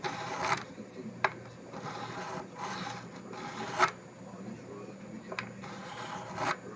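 A fret file rasps across nickel silver frets on a Stratocaster in a few short, separate strokes at moderate level, over a low steady background hum.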